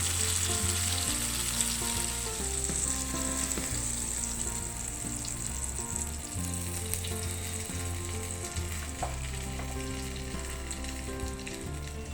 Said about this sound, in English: So let us turn all the fish pieces. And let it cook nice and crispy from the other side as well.